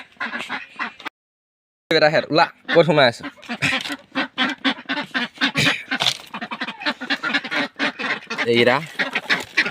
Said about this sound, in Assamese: আমাৰ হাঁহকেইটা দেখাই আছোঁ আপোনালোকক